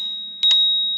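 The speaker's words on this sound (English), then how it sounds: "a mechanical bell." A mechanical bell on an e-trike rings with a sustained high metallic tone, struck twice in quick succession near the mic.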